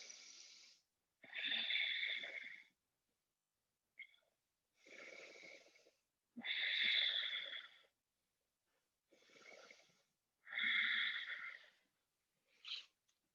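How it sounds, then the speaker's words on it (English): Deep, slow breathing during a vinyasa yoga session: several long, soft breaths in a quiet room, each lasting a couple of seconds with pauses between, audible inhale and exhale with a slightly nasal, breathy texture. "3 deep breaths here."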